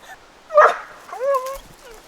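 A dog on a leash outdoors in a national forest gives two short yelping whines close by, the second rising and falling, in a mostly quiet setting.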